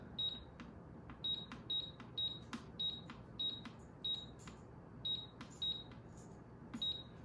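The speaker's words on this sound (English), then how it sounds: "You hear that tune? It is saying that the lid is on." A Pampered Chef Deluxe Cooking Blender plays a lid-on sensor tune, a series of short bright electronic beeps in an even rhythm, close and clear over a low background hum.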